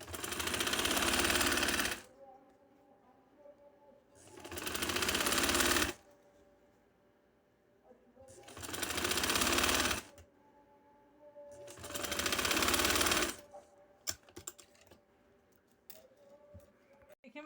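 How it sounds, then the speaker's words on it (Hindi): A sewing machine stitches lace onto fabric in four steady bursts of rapid mechanical whirring, each about two seconds long with quiet pauses between, followed by small clicks and handling noises, close and clear. "अब मैंने इसको नीचे रख के ऊपर सिलाई लगाने लगी।"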